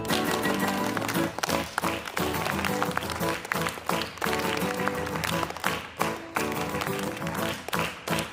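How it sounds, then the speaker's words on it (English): Congregation at a Friday night synagogue service clapping hands in steady rhythm along with music and singing, claps blending into a full, continuous wash. "Clap your hands again."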